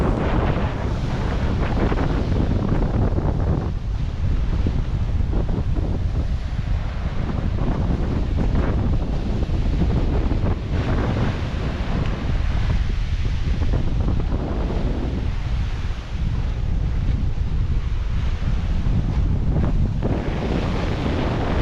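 Loud, constant wind roaring against a microphone over the wash of large sea waves on a boat in the West Philippine Sea, a thick steady rush with no voices.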